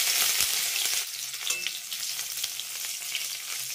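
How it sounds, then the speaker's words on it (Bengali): Cumin seeds and chopped garlic crackle in hot oil, a bright, dense sizzle loudest at the start that settles into a steady, close hiss with small pops; no talking. "জিরেটা হালকা একটু ভাজা ভাজা হয়ে গেলে দিয়ে দেবো 8 থেকে 10 কোয়ার মতো রসুন কুচিয়ে নেওয়া"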